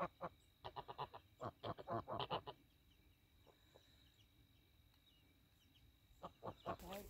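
Geese on a rural property in Southern Oregon give a burst of loud, close honks in quick succession, fall quiet for a few seconds with faint calls in between, then honk again near the end.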